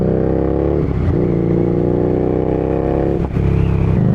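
A Harley Davidson Street Rod 750 motorcycle engine pulls and accelerates in fifth gear, a loud, steady low growl with gear-change dips, heard close up with no talk.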